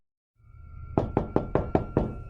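Six sharp knocks on a door in a quick, even rhythm, close and clear, with no other sounds.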